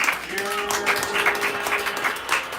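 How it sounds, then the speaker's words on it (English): An audience claps for musicians at a talk on quietness in music, a moderate wash of applause with a sustained tone and a voice speaking over it. "can we give a hand clap for these dope musicians?"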